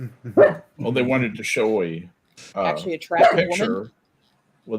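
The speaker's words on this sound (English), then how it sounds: "Sorry about the dog. Stop that." A dog barks in a few sharp bursts mixed in with ongoing conversation, the barks close and moderately loud while people keep talking over them.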